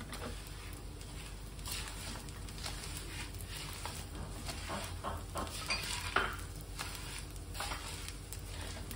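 Coconut powder roasting in a pan over a low flame, a soft continuous hiss with faint scrapes and light taps of stirring, quiet and even throughout.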